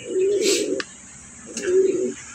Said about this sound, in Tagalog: At tapos yung lahi ni Bis at saka Storm, bumira din ng north and south tong kalapati na ikak na yan.